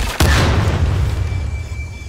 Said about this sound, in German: Bei dem muss man aufpassen, die machen Bumm.